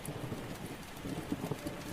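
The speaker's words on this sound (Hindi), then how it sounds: "अभी वो थोड़ा ही दूर गया था कि बारिश तेजी से शुरू हो चुकी थी" Heavy rain starting in a cartoon story, a soft continuous patter of drops with scattered small splashes, fairly faint and without voices.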